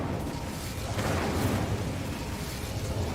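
A fire spell, Incendio, is cast in Hogwarts Legacy, giving a sustained roaring, rumbling burst of flame that holds steady and loud for the whole moment.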